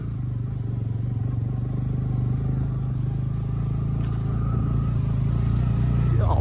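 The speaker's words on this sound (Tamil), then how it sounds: "நீ வந்து செகண்ட் கியர்ல போட்டு ஏத்து" A car engine labours steadily uphill in second gear on a rough, stony road near Yercaud, droning continuously close by and growing slightly louder toward the end.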